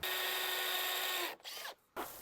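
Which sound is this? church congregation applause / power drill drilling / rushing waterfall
power drill drilling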